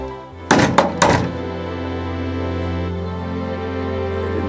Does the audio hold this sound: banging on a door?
yes